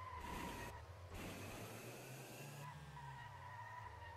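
A car drifts in the video game Feather Party, a sustained engine drone with tire skid and squeal running continuously, loud and close, with no talk.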